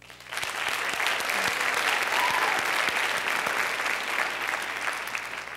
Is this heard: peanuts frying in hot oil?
no